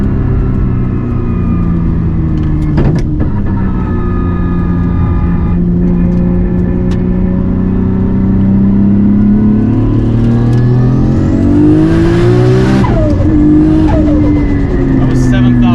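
A Nissan R34 GT-R's engine climbs through a long, loud rev to 7,000 RPM, a deep throaty drone rising steadily in pitch before peaking and dropping back, close and dominant.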